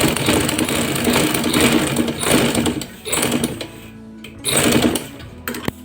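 Sewing machine stitching a ladies' cuff with loops, running in loud rapid whirring bursts of a few seconds each, separated by short pauses and small clicks, close by.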